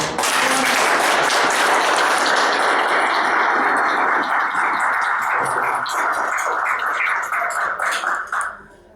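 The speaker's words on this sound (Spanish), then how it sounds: "Un aplauso a nuestro arqueólogo." Conference audience applauding an archaeologist, a sustained, loud burst of many hands clapping close by that fades out near the end.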